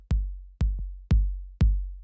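Four evenly spaced hits of a shortened 808 kick drum, dry without drum bus processing, each a deep booming thump with a quick decay, loud and isolated.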